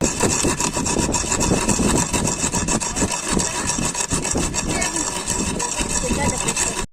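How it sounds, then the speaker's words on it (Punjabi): Fennel, nigella and black pepper being coarsely ground, a steady loud rubbing, grating rasp running continuously with rhythmic strokes throughout. "ਇਹਨੂੰ ਹੁਣ ਪੀਸ ਲੈਣੇ ਮਸਾਲੇ ਨੂੰ ਨਾ ਦੜਫੜ ਕਰ ਲੈਣੇ"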